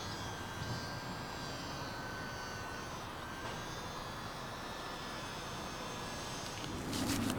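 A small P-47 UMX radio-controlled model plane flies on its first flight, a steady thin electric motor whine holding at a constant level over outdoor background noise, with a slight rise near the end.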